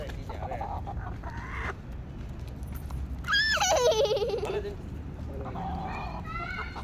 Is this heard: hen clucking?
yes